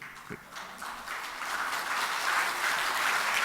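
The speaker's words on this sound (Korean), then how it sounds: "박수를 뜨겁게 보내어 주시고" A church congregation applauds steadily, the clapping building slightly in density and loudness over a few seconds, with no talking over it.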